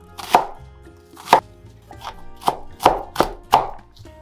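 An onion is chopped on a cutting board with a knife, seven crisp, distinct chops at an irregular, moderately quick pace, close and clear with no talking.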